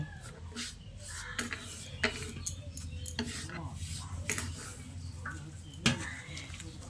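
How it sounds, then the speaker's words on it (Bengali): Chopped drumstick (sajne) leaves being washed by hand in water, quiet rubbing and swishing with soft irregular clicks and knocks against a bowl, close and faint. "এবার জল দিয়ে ভালো করে ধুয়ে নিচ্ছি"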